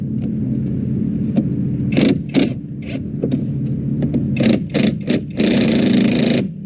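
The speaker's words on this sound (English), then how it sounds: "now this will give me access with my impact. Take out the slide pins." Air impact wrench loosening the brake caliper slide pins on a Saturn S-Series front brake, close and loud: several short bursts, then a longer sustained run near the end, over a steady low background hum.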